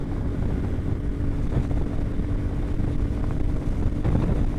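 A Royal Enfield Classic 350 motorcycle running at high speed in upper gears, with a steady low engine drone and thumping under heavy wind rush across the whole stretch.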